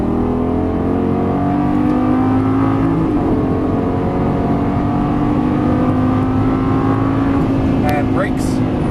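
Lamborghini Gallardo LP550-2 engine on a race track, loud and continuous as it accelerates under throttle, pitch climbing steadily from inside the car, with an instructor's voice talking over it.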